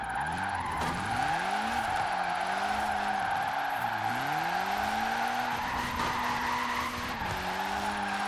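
A drift car in Forza Horizon 4 slides through a drift zone, its engine droning steadily while tires squeal in long repeated sweeps as it holds angle on the handbrake, loud and continuous with no talk.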